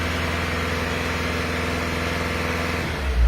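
A VW Transporter T5.1 van engine idles steadily with a low, even hum, then is revved near the end, the pitch and loudness rising sharply in the final moments.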